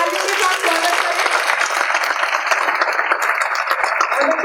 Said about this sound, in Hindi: तो जोरदार तालियों के साथ स्वागत करें।